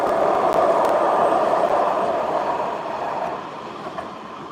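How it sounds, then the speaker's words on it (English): A subway train passes by a residential balcony with a steady rumbling roar and faint rail clatter, heard from a moderate distance, gradually fading slightly toward the end, with no talking. "And there goes the subway."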